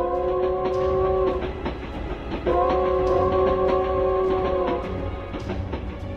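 A train running from Chicago to Washington gives two long, loud horn blasts over a constant close rumble of rolling rail cars and wheel noise.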